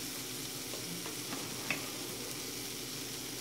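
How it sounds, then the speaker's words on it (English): Onions, peppers and sausage frying together in a pan, a quiet even sizzle throughout with one faint clink near the middle. "once you get the onions and peppers softened up nicely, we're going to toss in the sausage"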